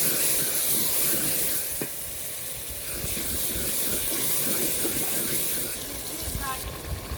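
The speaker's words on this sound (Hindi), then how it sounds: "थोड़ा थोड़ा पानी शामिल करके मसालों को तकरीबन 10 से 15 मिनट तक अच्छी तरह भूनना है।" Ground spices sizzling in a pan as small splashes of water are added, a constant bright hiss and crackle that stays fairly faint and steady throughout.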